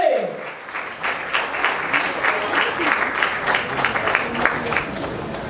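A crowd applauds Avadhoot at a Marathi film event for De Dhakka 2, a dense burst of clapping that carries on steadily, with voices mixed in.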